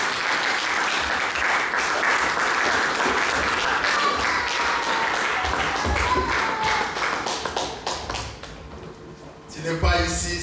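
A church congregation applauds during a Sunday service, dense rapid clapping that carries on steadily and thins out near the end, with voices in the background.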